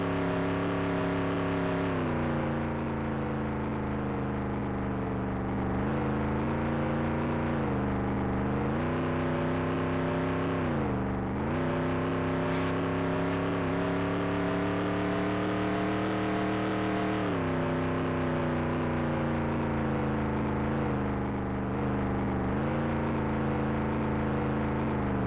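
Race car engine on a lap in Nascar 98, a loud continuous harmonic whine rising and dipping through gear and throttle changes, steady and close with no talk over it.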